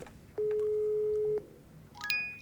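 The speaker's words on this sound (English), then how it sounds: "let's make this phone call as well while we're here" Dialing a phone call in the video game Office Simulator: a steady electronic tone holds for about a second, then a quick cluster of higher beeps follows, clear and close.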